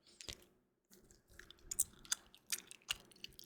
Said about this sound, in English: So I will just shut up and chew this lettuce.